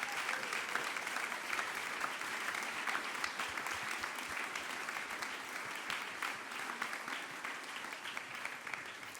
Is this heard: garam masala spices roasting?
no